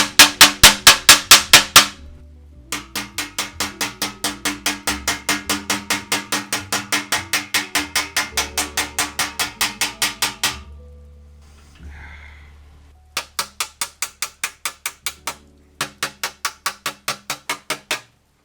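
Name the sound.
hammering sharp dents out of a baritone horn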